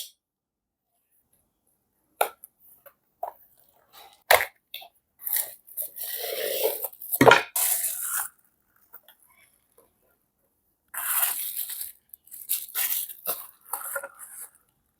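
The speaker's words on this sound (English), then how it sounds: "Let's open the packages now." Packaging for a BlendJet 2 portable blender and its XL jar being opened: intermittent close crinkling, tearing and rustling bursts, separated by silent pauses.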